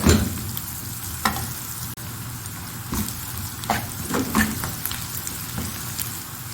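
Finely chopped onions sizzle steadily in a pan over medium heat for a dhaba-style dal chana fry, a loud close frying hiss with occasional stirring scrapes and no voices.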